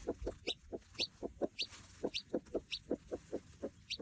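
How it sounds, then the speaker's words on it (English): A mother hen gives soft, low clucks over and over to her hatching eggs in a steady, murmuring rhythm, close and quiet. "mama hens will actually sit and do these little talking noises to their eggs"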